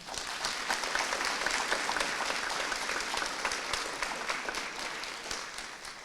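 A large audience applauds steadily at an awards ceremony, honouring people who support students; the dense clapping stays loud and even throughout, with no talk over it.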